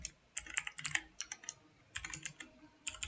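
Quiet, close bursts of typing on a computer keyboard, with individual keystrokes clicking in quick irregular runs separated by short pauses.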